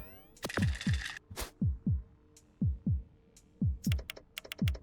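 A heartbeat in the Dicey Dungeons video game thumps in a steady series of low double beats, close and prominent, with brief bright electronic blips and a swelling tone scattered between them and no talking.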